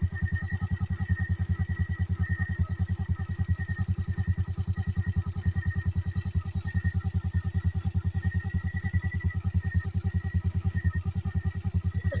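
Motorcycle engine on a night ride, running steadily with a fast regular low throb throughout, fairly quiet and close, no voices.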